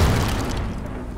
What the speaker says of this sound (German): Pass auf, die schießt auf dich, die Kanone.